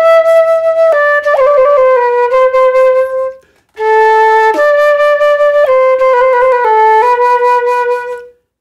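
A flute plays pianissimo with the teeth open, a clean, clear tone across a short phrase of sustained notes, a brief breath pause midway, close and unaccompanied.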